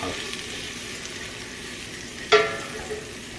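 Small amount of butter sizzling in a cooking pan on the stove, a steady soft hiss with one brief louder clatter partway through, heard at close range.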